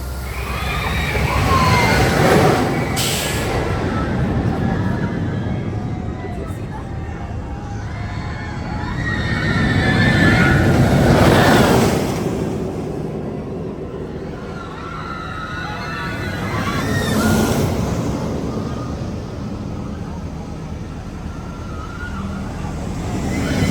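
At night, the Accelerator roller coaster at Knott's roars past in three broad swelling waves, each rushing up and fading, over a steady background of crowd noise.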